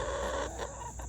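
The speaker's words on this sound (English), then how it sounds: "Chickens are funny because eventually they do always figure it out" Backyard hens cluck softly and steadily at close range, a low murmuring flock sound with no talk over it.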